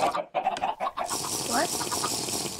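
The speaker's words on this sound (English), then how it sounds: "Watching these chickens." Chickens cluck in the video game Minecraft, a few short, clipped clucks under game ambience, with faint voice-like sounds in the opening second.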